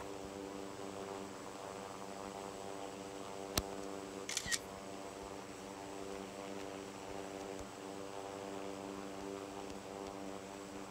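A single sharp camera shutter click for a screenshot in the Infinite Flight game, heard over a steady propeller aircraft drone, followed shortly by a brief burst of quick clicks.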